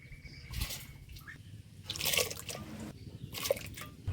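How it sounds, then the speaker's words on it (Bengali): Chana dal lentils poured into hot water in a pot for khichuri, a few soft, close splashes and liquid trickles separated by quiet pauses. "এখানে যে বুটের ডাল নিয়েছি এটা দিয়ে দেবো জল গরম হয়ে গেছে এর মধ্যে দিয়ে দিই"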